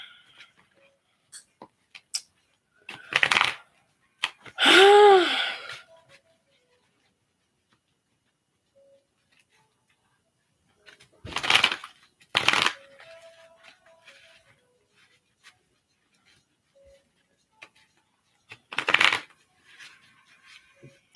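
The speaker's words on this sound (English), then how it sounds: "I'm shuffling still." Tarot cards are shuffled in three separate bursts of crisp riffling and slapping, close and fairly loud, with near silence between them.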